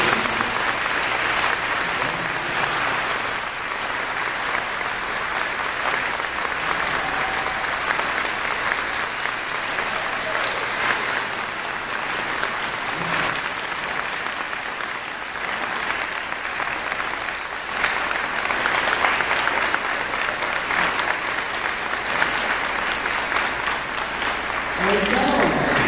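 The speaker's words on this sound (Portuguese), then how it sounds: "Uma salva de palmas ao nosso Padre." Sustained applause from a sizeable church congregation, steady and enthusiastic for the full length, with a few voices faintly mixed in.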